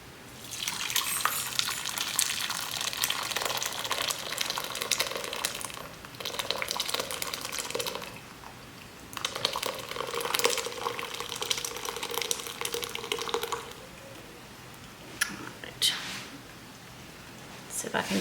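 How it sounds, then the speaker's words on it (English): Homemade steak sauce pours and splashes steadily through a strainer into a container, a continuous liquid rush with brief pauses, close and fairly loud. "let's see if I can pour this in here without making a total mess."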